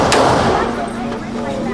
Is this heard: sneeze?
no